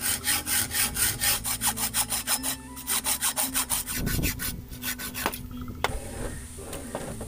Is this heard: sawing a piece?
yes